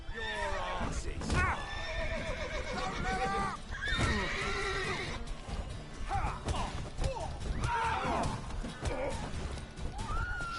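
Horse neighing and whinnying in The Witcher 3 amid hoof clip-clops, with shouting voices talking over the animal throughout.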